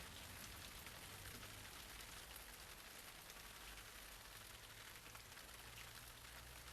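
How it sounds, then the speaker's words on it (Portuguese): Heavy rain pours down during an archaeological excavation in Africa, a dense, unbroken hiss of drops drumming on surfaces, steady throughout and fairly faint, with no voices. "A chuva forte fez uma parada nas escavações"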